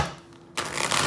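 A deck of cards shuffled once in a quick riffling burst that begins after a moment of quiet, close and fairly loud.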